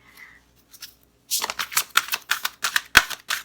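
A deck of cards is riffled and shuffled in a quick run of crisp, rapid flutters, close by after a brief quiet start.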